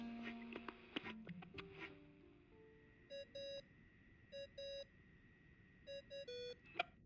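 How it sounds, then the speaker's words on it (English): Genshin Impact ringing tone: short electronic beeps repeat in clipped pairs and groups, thin and tonal, preceded by a few plucked notes, sounding fairly quiet with no talk. "I really hate that ringing tone."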